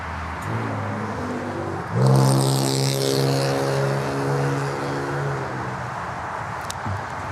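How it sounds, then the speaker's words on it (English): A BMW with an engine sounding broken roars up abruptly and holds a rough, droning buzz for several seconds before easing off, heard from a distance against a cold-weather airport backdrop. "This beamer sounds like it's broken."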